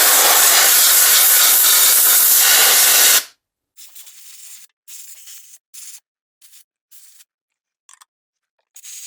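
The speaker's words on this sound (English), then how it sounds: "Let me just get my compressed air, and then I will blow it dry with some compressed air." Compressed air blasts a resin 3D print dry: one loud, steady hiss of about three seconds, followed by several short, quieter bursts of air spaced irregularly, with no talking.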